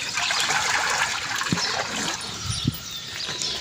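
Water pours and splashes steadily from a vessel, a continuous gushing close by, with a couple of soft knocks partway through.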